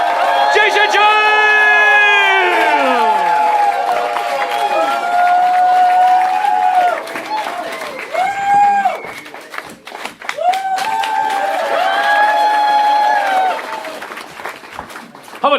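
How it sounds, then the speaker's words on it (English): Loud audience applause and cheering for a comedian closing a live stand-up show at Punch, with whoops over the clapping. The crowd swells strongly, then dips and rises again across the clip, sustained throughout. "A big round of applause to Mr. Jason James!"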